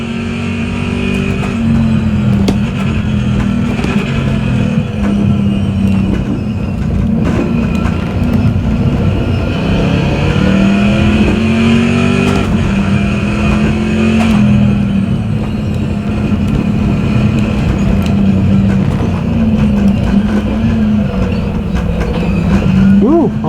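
A race car in the racing simulator iRacing holds a loud, continuous engine drone whose pitch rises and falls with shifts and revving, steady and close throughout.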